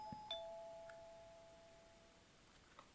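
A doorbell chimes once in the game Corpse Party: Blood Drive, a clear two-tone ring that fades into a quiet, empty house, followed by a few faint clicks.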